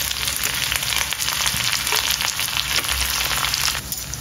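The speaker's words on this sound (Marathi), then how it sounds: "इथे आपलं तूप तापलंय, कांदा आणि कढीपत्ता" Onion and curry leaves fry in hot ghee, giving a steady, close, bright sizzle throughout with a faint stir now and then.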